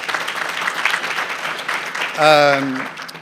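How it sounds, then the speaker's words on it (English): Audience applause at an evening event fills the clip as a steady crowd of claps, and a voice calls out loudly over it near the end. "please give them a round of applause"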